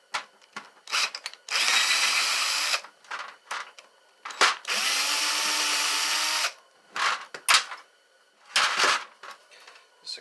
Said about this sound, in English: This is a great combination of socket and tool I have here.